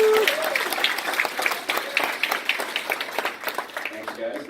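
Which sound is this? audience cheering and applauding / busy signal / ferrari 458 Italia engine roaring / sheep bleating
audience cheering and applauding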